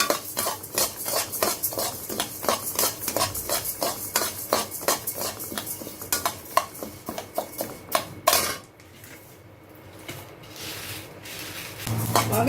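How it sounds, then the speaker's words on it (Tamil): Rice dry-roasting in a pan for a traditional spice powder, with a utensil scraping and stirring in quick, steady strokes for several seconds before the stirring stops and only a soft hiss remains. "அரிசியை நல்லா வறுத்து எடுக்கணும்"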